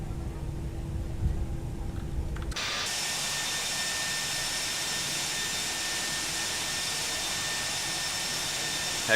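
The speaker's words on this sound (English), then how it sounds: "We're currently taxiing to runway 18 center, which is located right over there." Toliss A319 jet engines taxiing in the X-Plane flight simulator: a low rumble gives way to a steady, loud broadband engine whine and roar that holds constant throughout.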